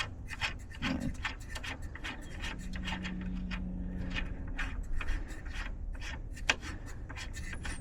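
Small nuts on the grille of a late Mk1 Volkswagen Westfalia camper are cracked loose and spun by hand, giving close, irregular metallic rubbing and scraping clicks throughout, with no talking.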